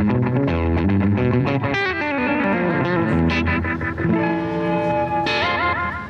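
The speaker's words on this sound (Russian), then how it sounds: "получается этакое слэпбэк-эхо в духе рокабилли" Electric guitar runs through an analog delay pedal set for rockabilly-style slapback echo, fast picked notes and bends, each note doubled by a short repeat, loud and close with no talking.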